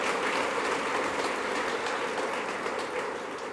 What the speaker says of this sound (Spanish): Démosle un aplauso al Dios de la gloria, a Jesucristo.